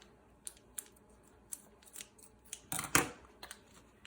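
Scissors snip repeatedly at close range, a series of sharp clicks building to a louder crinkly cut through a plastic bag.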